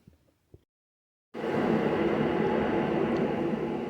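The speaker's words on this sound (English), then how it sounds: "Sorry for the noise in the background, got the heater running, it's kind of cold today." A heater running in a cold garage during a Chevy S10 brake job kicks in after a brief quiet gap, becoming a steady, fairly loud broadband whoosh that holds without change.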